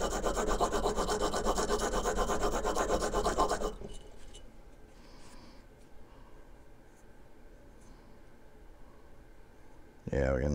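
A Harbor Freight hand plane blade is rubbed on an oiled sharpening stone in steady, rapid rasping strokes, close and loud, then the scraping stops and quieter handling noises follow before a brief burst at the end.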